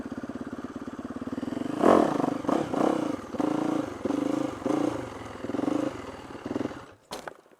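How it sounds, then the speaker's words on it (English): A motorcycle engine revs and surges in uneven bursts as a stunt rider feathers the clutch during a wheelie, loud and close, with a sharp clatter near the end. "When you get more of an advanced technique is when you start to use the clutch while you wheelie."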